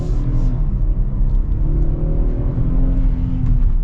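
A 2023 Kia Telluride SUV with a V6 engine accelerating on the road, its loud, steady engine rumble and whir filling the cabin with no talk over it.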